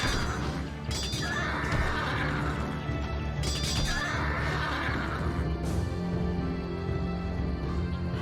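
Horses of mounted warriors in Empire Earth neigh twice in long, loud whinnies, set over a busy battle din with faint hoof clatter and clashing.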